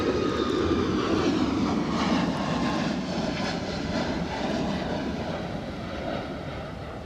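Jet airliner taking off at Edinburgh Airport at full thrust, a loud, steady engine roar holding throughout with a gradual, slight fade as it climbs away, broadband rumble alone without talk.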